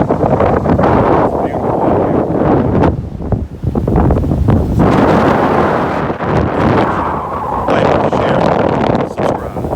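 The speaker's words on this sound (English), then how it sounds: "even though it's windy" Strong wind at Pompano Beach buffets the microphone with loud, continuous rumbling gusts, and faint surf may sit underneath.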